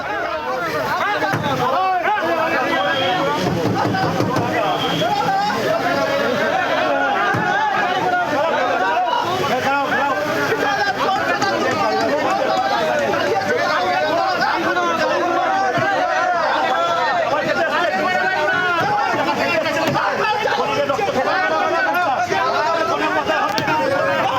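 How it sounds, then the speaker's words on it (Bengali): Protesters at an airport crowd around politician Sougata Roy waving black flags and chanting "thief, thief" slogans, a loud continuous babble of many voices shouting together without pause. "তার উদ্দেশ্যে চোর চোর স্লোগান বিক্ষোভকারীদের"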